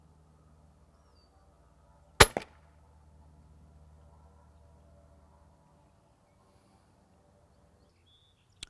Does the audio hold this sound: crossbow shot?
yes